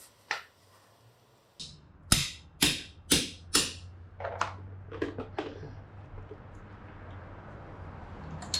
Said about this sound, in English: first thing I'm gonna need to unscrew is this crankcase drain screw, which I need to use the wrench number 17